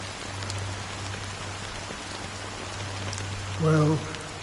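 Steady rain falls in Honkai Star Rail, a dense even patter over a low constant hum, with a brief tonal chime or voice-like sound near the end.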